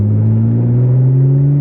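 A 2010 Lotus Evora's engine, just dropped into second gear, holds a loud, steady revving drone close by with no talk over it.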